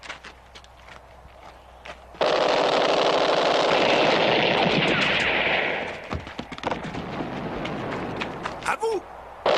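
Rapid gunfire bursts out in a French-dubbed TV drama action scene, a loud sustained volley lasting several seconds, then scattered shots and footsteps as it fades, with talk around it.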